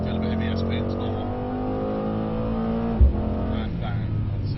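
A Mercedes-Benz C63 hums steadily through a track corner with a loud engine drone and a brief thump midway, while a voice talks over it.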